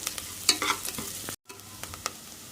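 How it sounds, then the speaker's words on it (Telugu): Moong dal being dry-roasted and stirred in a pan, with scraping strokes and light crackling that stop sharply for a moment and then resume at a softer, steady level. "ఇందులో మనం పెసరపప్పును వేయించుకుందాం."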